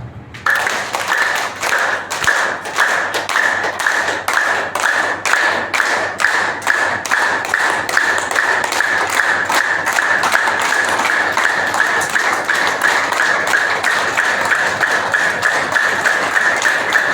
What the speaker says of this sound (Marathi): म्हणून करणार क्लॅपिंग एक्सरसाइज